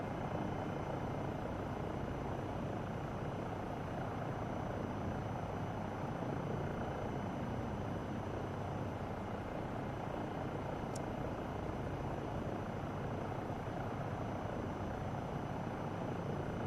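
A default helicopter flying through mountains in Microsoft Flight Simulator makes a continuous, loud rotor and turbine hum, steady and unbroken over its whole length, with a single brief high click near the end and no voices.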